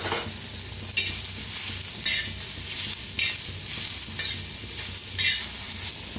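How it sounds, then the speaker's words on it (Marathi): Onion, tomato and coriander frying in oil in a pan, a steady close sizzle broken by about five periodic bursts of stirring scrapes, no talk. "हलकासा कांदा भाजायला लागलेला आहे, त्याच्यातच टाकूया टमाटर आणि कोथिंबीर"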